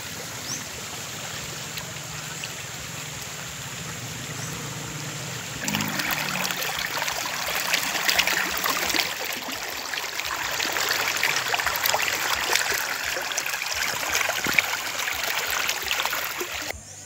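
River water in the Condeúba region of Bahia flows and trickles steadily, growing louder and fuller partway through as the current rushes in, with no voices.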